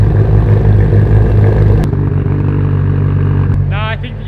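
A tuned 700 HP Mitsubishi Lancer Evolution X idles nearby with a loud, steady low rumble and some clatter, a brief sharp knock partway through, and a voice starting at the end.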